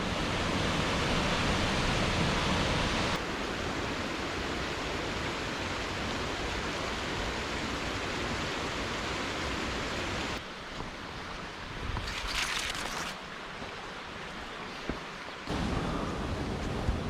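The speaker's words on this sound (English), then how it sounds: "I reckon that's the actual waterfall there." A waterfall on the Snowdonia Slate Trail roars in a steady, dense rush of falling water, loud and close, shifting slightly in level as the listener moves but never letting up.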